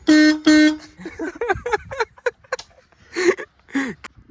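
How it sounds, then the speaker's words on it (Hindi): Two short, loud honks from a motorcycle horn close by, followed by someone talking. "हाँ भाई एक बार हॉर्न बजा के दिखा यार एक बार।"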